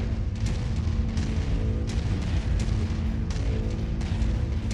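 Heavy mech footsteps in the MechWarrior 5 video game thump in a steady rhythm of deep booms over a continuous loud rumbling engine drone, with no speech.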